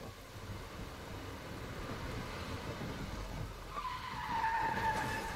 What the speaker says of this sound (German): Alles klar, da kommt einfach ein Auto angeflogen.